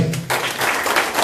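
Audience applause at a talk on corruption in the OAS, a dense burst of many hands clapping that swells suddenly and stays loud and close.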